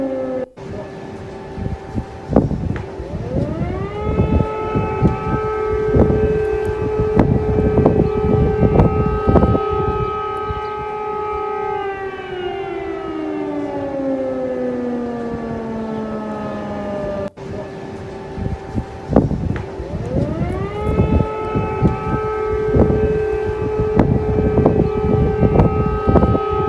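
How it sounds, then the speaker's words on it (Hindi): A loud war air-raid siren wails continuously in Kyiv, Ukraine, rising and then slowly falling in pitch, then climbing again, with faint traffic noise underneath. "तो ये वॉर सायरन कीव में बज चुका है"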